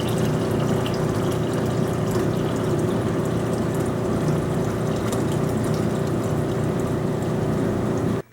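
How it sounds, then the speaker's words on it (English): Warm solution poured into a large beaker during a gold precipitation with Copperas plant food, a continuous splashing, gurgling stream of liquid held steady for several seconds before stopping abruptly at the end. "I'll transfer the solution to a large beaker so I can start precipitation with the plant food"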